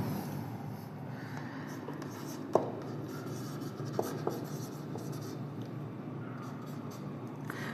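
Marker or chalk scratching a denominator onto a board in a maths class, faint steady strokes with a few sharp taps, set against a low room hum.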